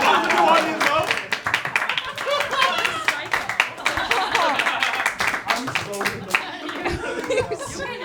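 A roast battle audience claps and cheers loudly throughout, a dense, steady wash of hand claps mixed with scattered laughter and chatter.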